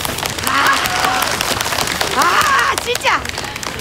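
Scattered applause from a small group at a fan club gathering in a Korean drama scene, with voices talking over the clapping throughout.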